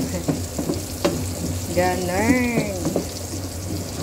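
Aromatics sauté in a pan ahead of adding pork belly for adobo: a continuous low sizzle with occasional stirring clinks, while someone talks briefly over it.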